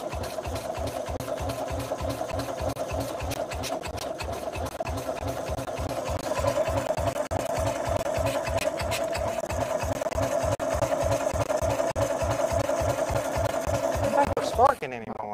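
A BMW Isetta barn-find engine, rigged with a rubber band and soda bottle, running at idle with a steady, rapid, close putter that grows slightly louder partway through, then cuts out near the end.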